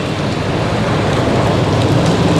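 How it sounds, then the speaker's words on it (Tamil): Heavy rain falling steadily in wet-season weather, a dense, loud, unbroken hiss and patter of drops that fills the whole stretch with no voices over it. "அந்த அளவுக்கு நல்ல மழை பெஞ்சிட்டு தான் இருக்குன்னு நினைக்கிறேன்"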